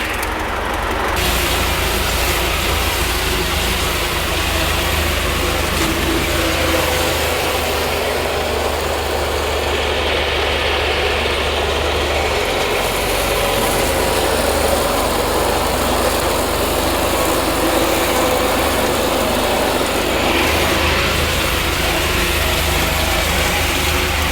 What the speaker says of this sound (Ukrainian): Бус стоїть, я їду трактором